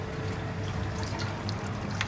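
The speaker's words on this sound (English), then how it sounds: "Just pour the milk" Soya milk, sugar-free and made purely from soya, pours steadily into a cooking vessel with a continuous close liquid trickle and splash, no voices.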